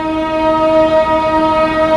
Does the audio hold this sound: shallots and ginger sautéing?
no